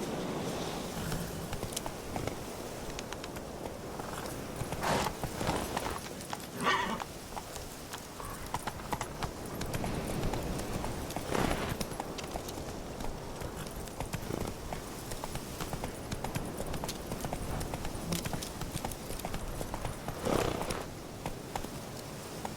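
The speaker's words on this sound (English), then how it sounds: "Run, Roach." Horse hooves clip-clop steadily at a gallop in The Witcher 3 video game, with an occasional neigh, a continuous rhythmic pounding close by under faint background ambience.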